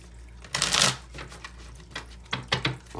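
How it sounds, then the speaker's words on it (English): Tarot cards are shuffled with a quick riffling burst, then slapped down in a few sharp, close taps, all nearby and with no talk. "the lion does not like when I slam those cards"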